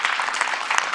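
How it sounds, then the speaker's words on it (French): Conference audience applauding at the close of a day-long event, a dense, steady wash of many hands clapping at close range for a brief moment with no talk. "je pense qu'on peut les applaudir"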